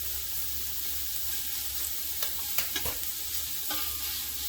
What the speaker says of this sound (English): I'm going to just start letting this render down, getting it nice and crispy